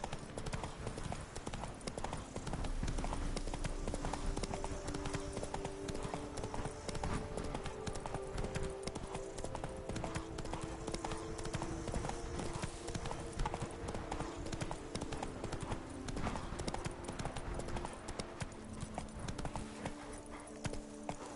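The horse Roach clip-clops steadily in Witcher 3, hooves striking in a regular rhythm throughout, accompanied by background music and brief talk.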